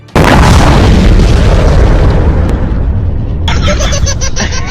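A firecracker bomb set off in a hand during Diwali lets out a sudden, loud, close blast that fills the clip with a long roaring rumble that slowly thins, with no talk over it.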